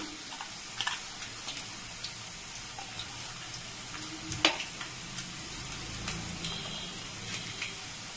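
Potatoes fry in a pan with a low, continuous sizzle, broken by scattered clinks and scrapes of stirring and a single louder clatter partway through; no voices.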